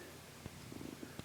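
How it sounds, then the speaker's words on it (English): A house cat purrs faintly in a quiet room, a low soft rumble with a few brief louder bumps and rustles scattered through. "Sorry if you hear random noises in the background, that's my cat."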